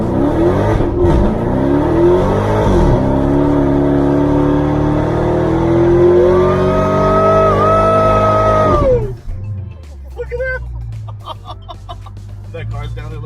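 A Dodge Challenger Hellcat Redeye accelerating hard from inside the cabin, its engine roaring loudly and rising through several gear changes before suddenly backing off. Shouts of excitement and talk follow.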